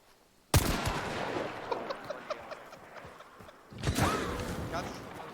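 Gunfire in the video game Hunt: Showdown: a sharp shot opens the clip, then scattered loud cracks and bursts, with a second strong blast near the four-second mark amid busy in-game noise.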